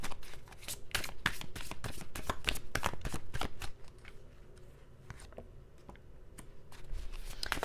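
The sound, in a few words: shuffling tarot cards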